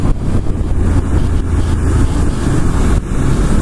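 A 2019 Ducati Monster motorcycle on the move, with a steady, loud engine drone and heavy wind rush buffeting the microphone throughout, continuous with no break and no voices.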